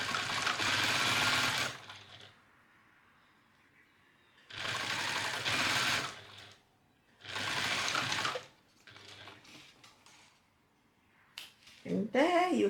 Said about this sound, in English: and I will sew.